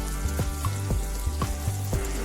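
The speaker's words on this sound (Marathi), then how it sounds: "मस्त फ्राय करून घ्या. एबी साईड पण फ्राय करून घेऊया आपण." Close, steady sizzling of frying in a pan for a spicy curry preparation, with rhythmic scraping strokes about every half second over the continuous hiss, no talking.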